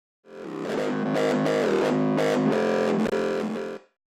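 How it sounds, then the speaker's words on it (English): A distorted bass line plays several sustained notes in Ableton Live, drenched in a short, bright plate convolution reverb that rings briefly after each note and at the end. "what I'm going to go for here on the convolution reverb is a plate sound"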